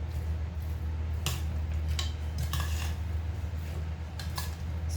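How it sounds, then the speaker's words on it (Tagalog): Dinakdakan ingredients stirred together in a bowl, giving a few soft, scattered utensil clinks and scrapes over a steady low background hum, with no talking. "Haluin lang po natin hanggang mag-mix ng mabuti yung mga ingredients niya."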